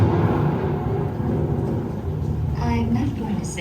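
A thunderstorm staged in the Disney Carousel of Progress show at the Magic Kingdom: a low, loud rumble of thunder with rain under it, continuous and close, with a voice speaking over it.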